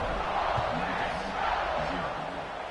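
Home crowd noise in an Ole Miss college football video game, a broad steady cheering roar sustained throughout at moderate loudness with faint voices mixed in.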